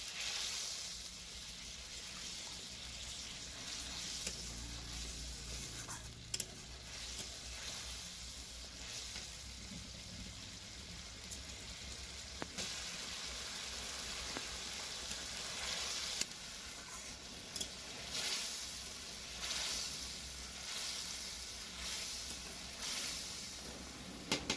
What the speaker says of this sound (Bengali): দিয়ে আরও কিছুক্ষণ ভালো করে মশলাটা কষে নেব